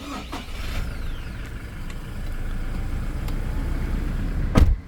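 A 2022 Toyota Hilux Rogue engine starts and settles into a steady, moderately loud idle rumble heard from inside the cab, ending in a sharp thump.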